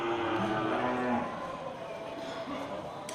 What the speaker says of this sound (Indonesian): Mantap ya, sapi-sapi super.